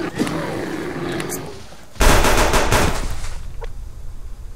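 Gunfire in the survival video game Subsistence, a rough burst of rapid shots that erupts suddenly over a noisy background and then trails off into quieter ambience, loud and alone without talking.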